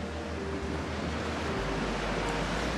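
Ocean waves breaking on a Gulf of Mexico beach at Caladesi Island, rougher than usual, with a steady broadband wash of surf and wind rumble throughout, no voices.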